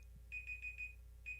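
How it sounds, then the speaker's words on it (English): Timer alarm going off in a sports talk show, a faint rapid run of high electronic beeps in a quick burst, then one more beep after a short gap. "And that's it. That's the timer."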